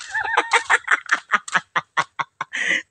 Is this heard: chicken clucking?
yes